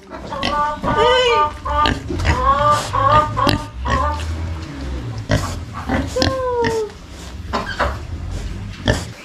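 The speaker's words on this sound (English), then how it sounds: "Let me go say hello to the pigs." Pigs on a farm in Vietnam grunt and squeal repeatedly at close range, loud and busy, with a voice greeting them over the noise.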